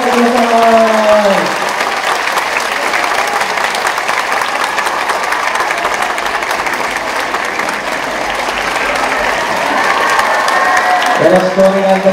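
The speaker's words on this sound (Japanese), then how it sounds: "大きな拍手をお迎えください。" Loud audience applause fills a Korean drama talk event hall in Osaka as the guest is welcomed, steady dense clapping sustained for around ten seconds, with a voice speaking briefly at the start and again at the end.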